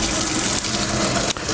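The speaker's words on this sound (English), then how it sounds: "run some cold water over it." Cold tap water gushes steadily over a fork-held cooked beet in a kitchen, a close, continuous splashing rush with a brief dip near the end.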